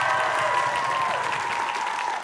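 A live audience in a bakery cheering and clapping, a dense, steady wash of applause and voices holding at even loudness throughout.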